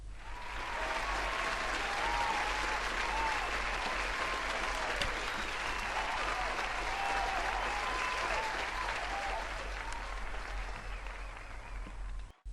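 Audience applause for game show racers after the winner is announced, a steady, dense wash of clapping that holds loud for about twelve seconds before cutting off abruptly.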